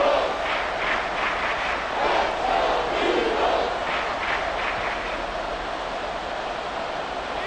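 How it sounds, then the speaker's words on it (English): Football stadium crowd cheering late in a close fourth quarter, a dense, loud roar with rising and falling surges that builds and then eases slightly. "This crowd doing all they can."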